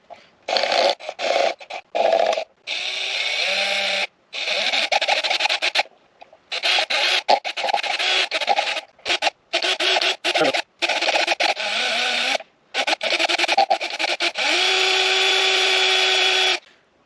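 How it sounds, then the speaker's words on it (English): Small drill whining in repeated short bursts, high and rasping, stopping and starting many times at close range. "you just got to get a drill bit and just drill it out"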